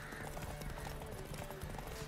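Horse galloping in a race in The Witcher 3, a steady clip-clop of hooves under a dense game soundtrack with a faint voice.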